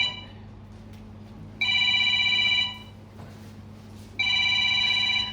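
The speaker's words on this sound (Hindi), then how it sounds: "सलमा का फोन।" A telephone rings in two long electronic bursts separated by a pause, loud and close, with no voices over it.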